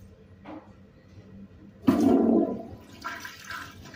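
Flush of a 1980s Mansfield Imperial toilet in a bathroom: after faint background noise and a small click, a loud rushing surge of water starts abruptly, then tapers into a gurgling, hissing refill.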